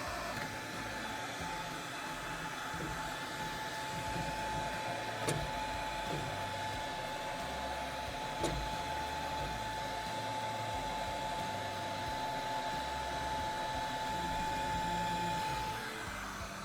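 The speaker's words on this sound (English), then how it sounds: "I'm gonna put a little heat on that thing with this heat gun" A heat gun blows a steady, loud whooshing roar with a constant electric whine as it warms a stripped barb fitting on a well pump check valve, running unbroken alone with a couple of faint clicks.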